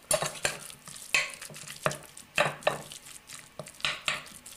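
A stiff burger mixture worked by hand at close range, giving a series of wet, squelching, slapping strokes in an uneven rhythm, with no voices.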